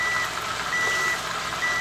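Repeated electronic beeps from a kitchen cooking appliance at a steady interval over a constant loud hum, three tones in under two seconds.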